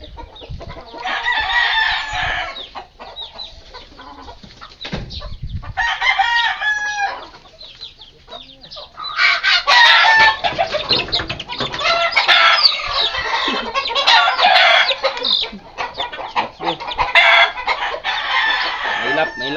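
A mother hen clucks and her one-month-old chicks peep in overlapping bursts, close by, with a brief pause before a denser, busier stretch of continuous clucking and chirping.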